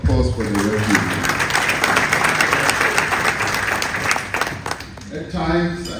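Applause at an ANC parliamentary caucus lekgotla: a crowd claps loudly and steadily for several seconds, fading toward the end as a voice speaks over the start and finish.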